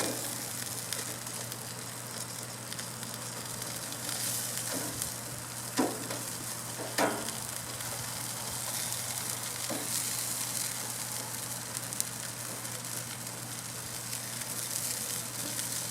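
Tomato basil burgers frying on a backyard grill just after being flipped, with a steady broad sizzle and crackle throughout, a few brief taps and clicks from the spatula, close and even, with no one speaking.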